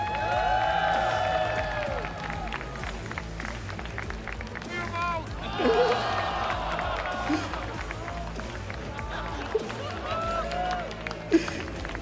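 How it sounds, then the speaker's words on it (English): An audience at the IEM San Jose 2015 Counter-Strike: Global Offensive event applauds and cheers, a sustained wash of clapping and crowd noise with voices talking over it throughout. "Big round of applause for Moses."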